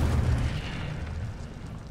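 A whooshing, rumbling burst from the Incendio fire spell cast in Hogwarts Legacy; a loud low roar at the start that fades steadily over two seconds, with no talking.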